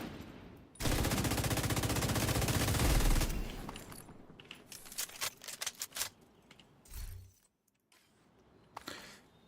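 A minigun fires in The Division video game, a loud, continuous mechanical roar that lasts a few seconds and then cuts off. Scattered quieter clicks and thuds follow, with a short gap of near silence.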